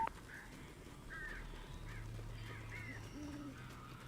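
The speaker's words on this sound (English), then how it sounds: "These birds are weird." Crows caw in the Alan Wake video game, a run of several harsh calls at moderate distance over a steady low rumble.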